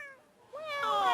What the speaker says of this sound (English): I'm just cuddling a cat now